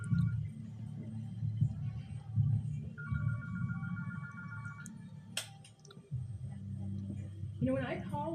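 A telephone rings during a video game scene, a short repeating electronic ring heard faintly beneath louder spoken dialogue and background game sounds.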